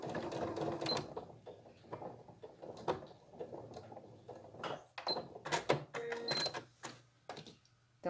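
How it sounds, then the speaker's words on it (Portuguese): A domestic sewing machine stitches slowly around a cut fabric edge in short bursts of whirring with brief pauses between runs, fairly quiet and close, with no talking. "Acerto bem o tecidinho para não ficar torto, costuro devagar."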